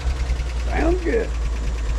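A 1948 Chevrolet Fleetmaster engine idles with a steady low rumble throughout, while a voice speaks briefly over it.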